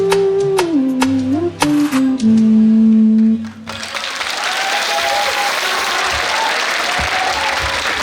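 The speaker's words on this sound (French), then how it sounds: "Je voudrais qu'on se mette debout pour les applaudir encore." Audience applause on a July 14 broadcast bursts in after a tonal sung or played passage ends, a loud, sustained wash of clapping that continues for several seconds.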